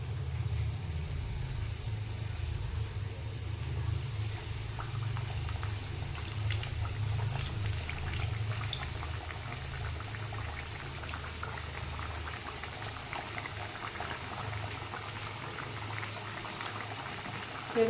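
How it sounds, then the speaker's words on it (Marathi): Coriander vadi (kothimbir vadi) fry in hot oil in a kadhai with a continuous, even bubbling sizzle. The sound runs steadily throughout with no talking. "आता आपलं तेल तापलेलं आहे। आता आपण त्याच्यात एक एक वडी टाकून घेऊ।"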